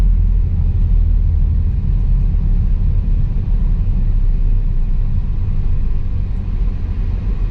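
Car driving through the centre of Sofia, Bulgaria: a steady, loud low engine and road rumble with continuous tyre noise, unbroken and with no voices.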